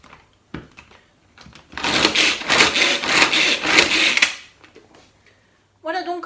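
A Tornado manual pull-cord chopper spinning through peeled vegetables, a loud whirring, rattling rush lasting a few seconds after some lighter clicks, then a brief voice at the end.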